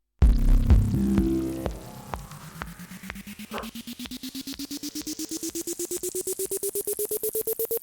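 A beat from a Woovebox groovebox plays through a high-pass filter sweep, starting full and then thinning as its low end drains away while a steady repeating pulse and a rising tone carry on to the end.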